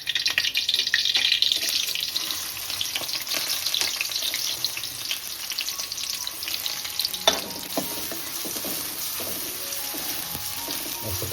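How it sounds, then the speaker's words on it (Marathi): Curry leaves and chopped onion fry in hot oil in a kitchen pan, a continuous bright hissing sizzle with a few sharper crackles and clinks partway through, no voices. "आपण कढीपत्ता टाकून घेऊ लगेचच आपल्याला कांदा टाकायचा आहे"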